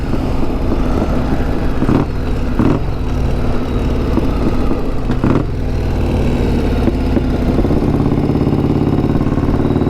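A loud custom motorcycle engine with low-slung pipes rumbles close by, with a few sharp revving bursts rising over the constant throaty idle.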